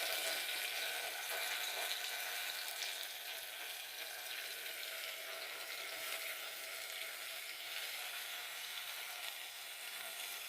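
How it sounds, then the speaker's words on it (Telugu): Coriander leaves frying in hot oil in a pan, a steady, even crackling sizzle that continues unbroken and fairly soft throughout. "కొత్తిమీర మొత్తం కూడా వేసి వేపుకోవాలి."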